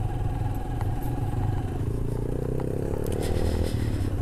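A motorcycle rumbles steadily along a bumpy mountain road near Sudhan Gali in Kashmir's Bagh District, with engine drone, rattles and clatter from the rough surface throughout, close and loud.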